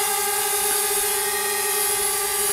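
DJI Spark drone hovering nearby while carrying an extra key-chain camera, a continuous high-pitched propeller whine that stays loud and steady throughout, with no talk.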